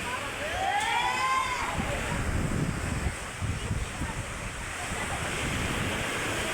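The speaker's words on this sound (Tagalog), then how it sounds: "Ilalim yung tubig, dagat, high tide." Sea waves at high tide wash and roar steadily, with wind buffeting the microphone throughout and no clear breaks between surges.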